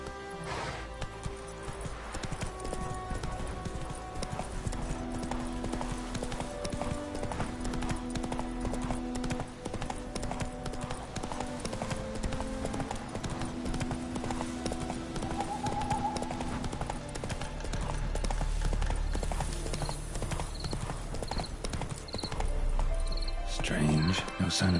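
Roach, a horse in The Witcher 3, trots with a steady clip-clop of hooves through the whole stretch, layered under game music and occasional talk.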